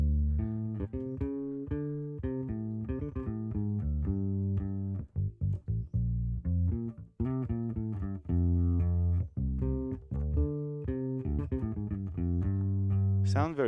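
Electric bass plays through a Darkglass Anagram using a NAM profile of a B15 head with an impulse response, giving a steady, punchy line with round lows and slight grit, close and loud, with no talking.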